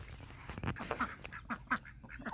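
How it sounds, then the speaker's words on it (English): Ducks quack in a garden after rain has brought excess water, a series of short nasal calls coming in quick irregular bursts at moderate distance over quiet background noise. "I told you the ducks are loving the excess water."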